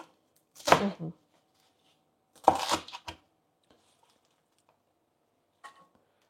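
A knife coarsely chops salad vegetables on a board in two quick clusters of firm thuds, close and crisp, with a faint tap later and quiet between.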